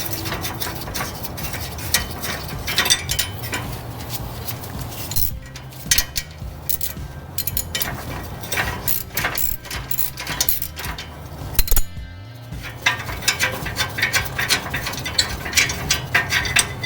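A 1/4 inch drive metric socket set ratchets under a 1987 C4 Corvette during a Dana 44 swap, giving a dense run of rapid clicking and metallic clinks, close and fairly loud, with no talking.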